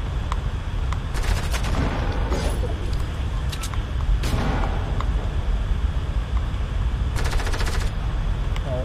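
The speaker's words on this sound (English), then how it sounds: "that's somebody else shooting" Gunfire in the Fortnite video game, a dense mix of sharp shots and rapid bursts over continuous game noise, with a long sustained rattle of automatic fire near the end.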